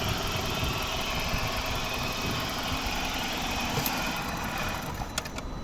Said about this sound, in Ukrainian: класно двигун працює, тут питань по ньому нема.